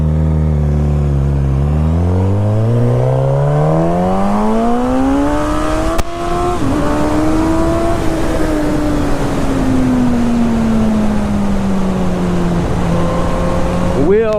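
A 2016 Suzuki GSX-S 1000 motorcycle accelerates hard and close, its engine note climbing through the gears in loud sustained pulls with brief shifts, while the rider talks over the engine.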